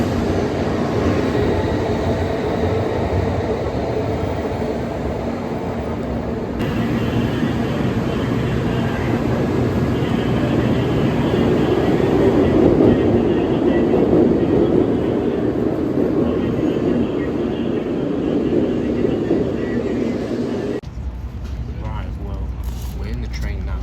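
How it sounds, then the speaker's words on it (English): A Japanese bullet train roars past steadily for many seconds, a broad rushing rumble, with people talking over it. "look, there's the bullet train"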